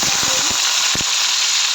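Steady hot-oil sizzle of mustard and cumin seeds crackling in a kadhai, with a few soft low thumps and stirring knocks, close and continuous.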